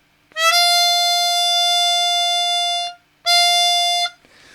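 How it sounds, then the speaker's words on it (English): A reedy chromatic harmonica note is blown and held, cut off, then sounded again briefly with the slider pushed in, slightly altering the pitch, close and clear with no talking. "I'm blowing and then pushing the slider in."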